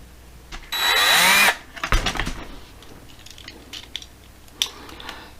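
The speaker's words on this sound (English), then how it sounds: "So let's get this bad boy drilled apart." A power drill bores into a diecast AMC Rebel model car, a loud high whine lasting under a second, followed by clunks, rattles and scattered small knocks of handling the metal parts.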